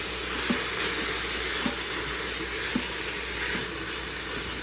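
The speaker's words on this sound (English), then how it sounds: "we're just gonna let this cook and saute, you guys, for a few minutes" Sausage sautéing in an Instant Pot for red beans and rice gives a steady, close sizzle and hiss with occasional soft stirring clicks, no voices.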